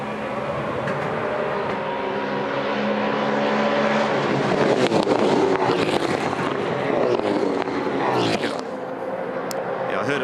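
A 2015 V8 Supercar with a cracked exhaust roars down the main straight at Sydney Motorsport Park during a SuperSprint race, its loud engine note swelling as it passes close by and then fading, with commentary heard over it.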